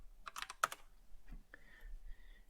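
A few quick keystrokes on a computer keyboard while entering a formula into graphing software, a short cluster of soft near clicks followed by faint hum.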